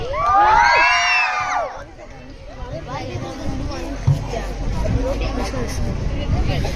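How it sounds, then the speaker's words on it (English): A group of 7th-grade children screams and cheers loudly in a burst at a school program, high shrill voices dominating briefly before settling into general crowd murmur and chatter. "Let us welcome them with claps. Scream once. Loudly."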